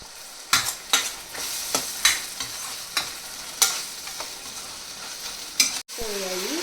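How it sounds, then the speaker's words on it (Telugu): A spoon scrapes and taps through omelette curry with salt in a pan, about a dozen sharp stirring strokes over a soft background sizzle, ending in a brief clatter. "సాల్ట్ వేసుకొని మళ్ళీ కలుపుకోవాలి, మగ్గించుకోవాలి మూత పెట్టేసి."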